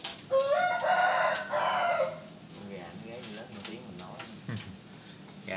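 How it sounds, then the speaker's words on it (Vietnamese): A rooster crows loudly at 2 am at night, one long drawn-out call near by, followed by quieter background noise and someone talking. "Gà mới có 2 giờ sáng này mà nó gáy nè."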